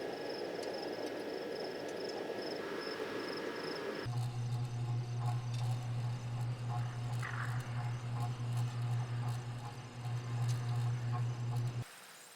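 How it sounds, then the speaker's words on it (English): Soft crickets chirp in a video-game night ambience from Tourist Trap, a faint steady insect trill under light airy noise that later gives way to a low humming drone. "crickets, or other distant wildlife."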